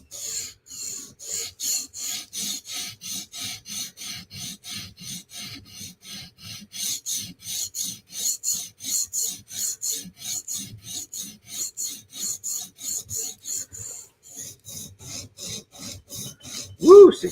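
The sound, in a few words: knife sharpened on stone with TSProf Kadet sharpener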